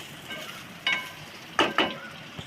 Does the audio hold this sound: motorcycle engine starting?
no